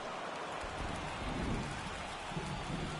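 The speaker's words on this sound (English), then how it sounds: "the field's not going to be able to hold up if the rain gets any worse than this" Rain falls steadily on a baseball field in MLB The Show 24, a dense continuous hiss with soft low rumbles beneath, alone without talk.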